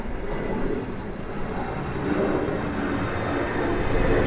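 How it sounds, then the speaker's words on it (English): Airplane passing overhead on a rainy night outdoors, a broad low rumble that holds steady and slowly builds louder, heard alone with no talking. "Plane."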